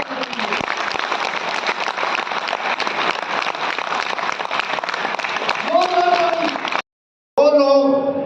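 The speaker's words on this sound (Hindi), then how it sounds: "जोरदार ताली चाहिए" Applause from an audience at a hotel meeting, answering a call for loud clapping, a dense steady roar that fills most of the stretch, breaks off briefly near the end, then resumes with a voice over it.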